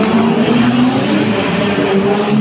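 Authentic racing cars, including a 037, at the Circuit des Remparts run with a loud, continuous engine roar and a droning low hum that hold steady throughout, close by and without pause.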